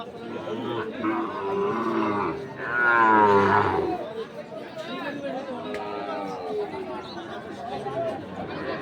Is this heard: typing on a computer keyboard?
no